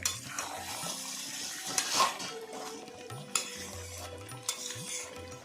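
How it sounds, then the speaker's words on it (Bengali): Chicken cooks slowly in an uncovered pot with a soft, low sizzle. A utensil stirs and scrapes it in irregular bursts with a few light metallic clinks against the pot, quiet and close. "মাংসটা এবার কিন্তু ঢাকা আর দেবো না, এইভাবেই আস্তে আস্তে আলগা রেখেই কষিয়ে নেব।"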